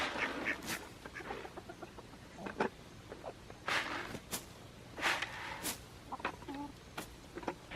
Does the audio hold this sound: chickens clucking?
yes